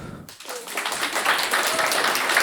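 A live stand-up comedy audience applauds a comedian at a Ukrainian-language show, a broad wash of clapping that swells after a brief quiet start and holds steady and fairly loud to the end.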